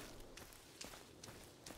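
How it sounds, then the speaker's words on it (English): Heavy stomping footsteps in Sons of the Forest land as a regular series of about four thuds, spaced roughly half a second apart over a constant noisy game background, fairly faint, with no talking. "What is that stomping? sounds like there's a big stompy stomp."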